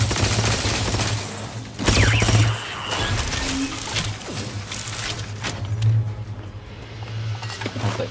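Rapid volleys of gunfire in Outer Worlds 2, a sustained clatter of shots with several louder bursts, over a steady low in-game hum.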